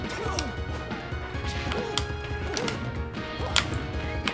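Smash attacks landing in Super Smash Bros. for Wii U, with repeated sharp thwacking hits over continuous game music and effects.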